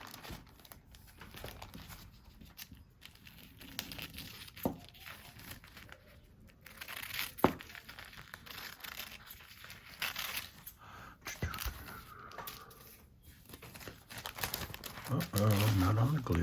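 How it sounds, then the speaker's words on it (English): Junk mail paper is handled and cut with scissors, giving crinkling, rustling and snipping noises that come in uneven bursts, with a voice talking intermittently over them. "I'm just going to cut it."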